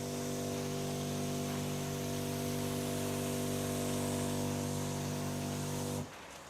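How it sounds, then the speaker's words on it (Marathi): An agricultural sprayer hisses steadily through a multi-hole nozzle during a product demo, with a loud, continuous rush and a hum underneath that cuts off abruptly near the end. "सुंदर स्प्रे आहे हे पहा"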